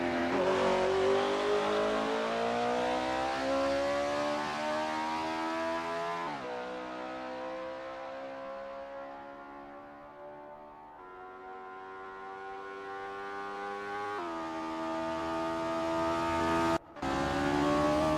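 A Honda S800 race car in Assetto Corsa sim racing at the Lake Garnet track, its engine loud and close, revving through rising and falling gear pitches with brief shift breaks, alone without talk.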